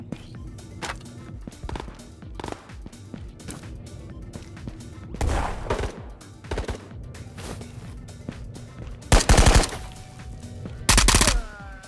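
MP9 submachine gun fire in a video game, with repeated bursts of rapid shots amid busy game noise and two loud close bursts near the end.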